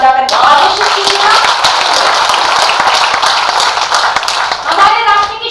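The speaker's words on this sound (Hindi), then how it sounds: "एक बार पूरा सदन मुझे तालियां बजाकर आदेशित कीजिएगा" A hall audience claps at a Hindi poetry recital, loud, close and continuous with sharp individual hand strikes, briefly overlapping a reciting voice at the start and end.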